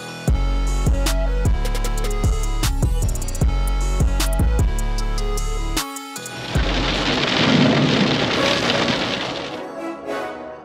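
Thunderstorm in Greece: after a stretch of music, a loud broadband roar of heavy rain and rumbling thunder rises and holds steadily to the end.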